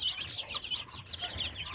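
Young naked neck chicks of the Spanish red breed peep in a rapid, continuous chorus of high cheeping calls, close and fairly soft.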